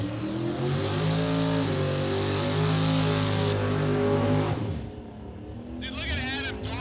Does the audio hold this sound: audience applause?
no